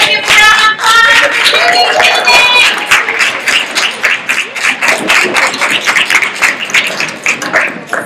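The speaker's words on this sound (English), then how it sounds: "Everybody give a round of applause." Applause from an audience at a university women's center 30th anniversary celebration, a steady dense wash of clapping filling the whole stretch, loud and continuous, with some voices and cheers mixed in at the start.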